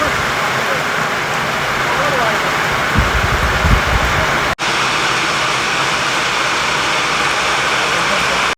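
Rain falling steadily near a village river, a constant wide hiss of rainfall, fairly loud, with a brief low rumble partway through and talking underneath.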